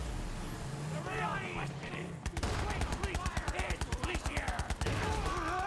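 Rapid gunfire from a gun in the video game Borderlands 3 rattles in a fast, steady burst of sharp shots lasting a few seconds, loud and close, with a voice talking underneath before the firing starts.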